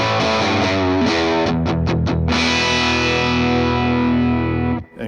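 Electric guitar through a Vox AC15C1 amp with the volume fully dimed, a loud, saturated sustained chord with a few quick picked stabs partway through, ringing out before a brief cut near the end.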